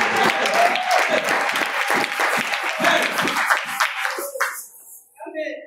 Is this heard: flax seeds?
no